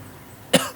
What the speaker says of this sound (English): We're gonna cut all the coughing